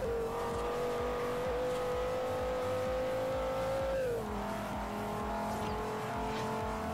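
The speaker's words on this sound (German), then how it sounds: "Kreischt ja richtig, der Wagen. In meinem Drehzahlbegrenzer." A race car engine in the Forza Horizon video game screams at a steady high pitch against the rev limiter, then drops sharply in pitch midway as it shifts and keeps droning loudly.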